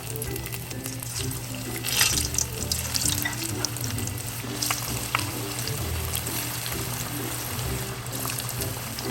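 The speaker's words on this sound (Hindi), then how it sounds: "ऑयल में अब अपनी फ़िश को फ्राई करेंगे जो हमने मैरिनेट करके रखी थी" Marinated fish frying in oil over a medium flame, a steady close hiss and sizzle with a low continuous hum running underneath throughout.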